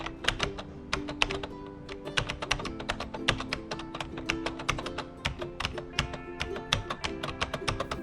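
Close, brisk typing on a computer keyboard as a student ID is entered on an online fee portal, with dense clattering keystrokes running steadily throughout.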